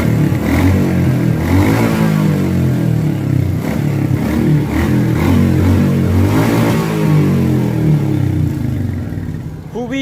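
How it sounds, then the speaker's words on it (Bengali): A vehicle engine fires up and revs through its silencer, loud and close, with a steady throaty drone that swells and eases in repeated rises for about ten seconds before cutting off near the end. "এই হচ্ছে গাড়িটা স্টার্ট দিয়ে দিলাম প্রিয় বন্ধুরা।"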